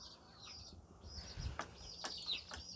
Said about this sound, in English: They can cheep, like the baby chickens over in the corner.